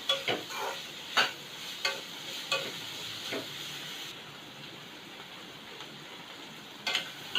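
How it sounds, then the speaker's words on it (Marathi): Sliced onion with curry leaves fries gently in a pan for a Konkan monsoon wild-vegetable bhaji. A soft steady sizzle runs under periodic scraping stirs of the spatula, with no one talking. "आपण हा कांदा चांगला मऊ होईपर्यंत भाजून घेऊया"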